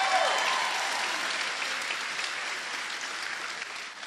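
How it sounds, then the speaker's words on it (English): An audience at a school event gives a sustained round of clapping that fills the room evenly and fades slowly toward the end. "can we give President Obama a huge round of applause?"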